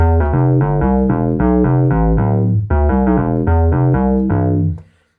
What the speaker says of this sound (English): Squelchy bass